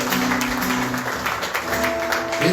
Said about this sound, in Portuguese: Uma salva de palmas bem forte para Jesus.